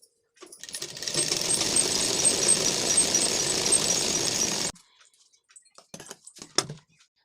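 A sewing machine stitches the bottom seam of a lined blouse, a steady, loud mechanical run of about four seconds that stops abruptly, followed by faint scattered handling clicks and fabric rustles.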